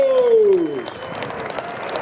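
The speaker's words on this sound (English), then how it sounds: "Give them a huge round of applause." Scattered applause and claps from an airshow crowd, fairly steady, following a fading tonal sound at the start.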